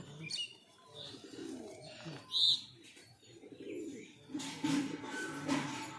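Low cooing from a pigeon with pox comes in short bursts amid rustling and handling noises as it is held for treatment, with a brief sharper chirp partway through.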